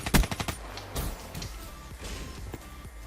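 Rapid bursts of automatic gunfire from a Call of Duty: Black Ops 3 match, a tight cluster of loud close shots at the start followed by scattered sharper reports over a busy game mix.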